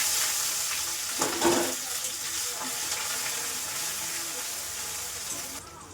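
Onion with cumin and bay leaf fries in a pan for a soybean curry, giving a steady, loud, hissing sizzle with a few brief clatters near the start, close by and continuous.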